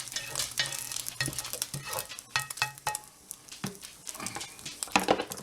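A spatula scrapes and stirs oil around a hot frying pan while cooking shrimp egg foo young, giving close, irregular scraping strokes over a light sizzle with no talking.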